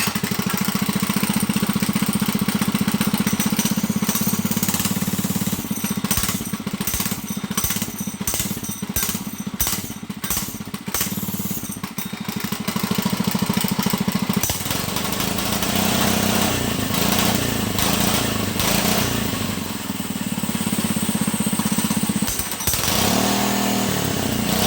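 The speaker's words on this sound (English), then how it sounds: "That's a stock muffler on that 105cc motor." A Monster Moto MMB105 minibike's 105cc engine runs steadily through a stock muffler, idling with a rough putter, then revving up in rapid pulses before settling back to idle.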